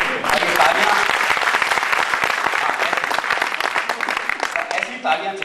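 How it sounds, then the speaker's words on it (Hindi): An audience at a Hindi kavi sammelan (poetry recital) in Hartford, Connecticut bursts into loud, sustained applause. The clapping is thick and continuous and thins slightly toward the end, with crowd noise mixed in. "ऐसी तालियां चाहिए, बस कहना ना पड़े"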